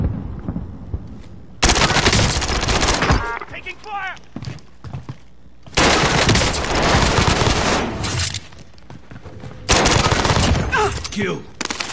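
Heavy automatic gunfire in Call of Duty Warzone, loud sustained bursts separated by short pauses, with excited voices talking between and under the shooting.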